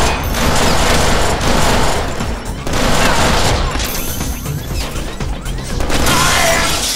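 Dense gunfire in the Deadpool video game, rapid overlapping shots and crashes at close range with loud sustained bursts and brief dips, mixed with game effects.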